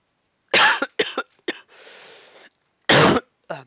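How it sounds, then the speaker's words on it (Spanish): Several loud, close coughs in quick bursts, with a brief hoarse throat-clearing rasp between them, then a final harsh cough and a short trailing sound, with no talk. "Perdón por la tos, casi me muero."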